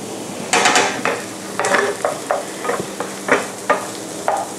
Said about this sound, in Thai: เดี๋ยวเราจะผัดให้นิ่มผัดให้มันใสครับ